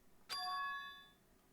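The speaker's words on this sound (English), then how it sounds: "Was that a skull bell just now?" A single bright bell chime from the video game Danganronpa 2: Goodbye Despair rings out once, sharp at the start, then lingers in a clear, slowly fading ring of tones with no talk over it.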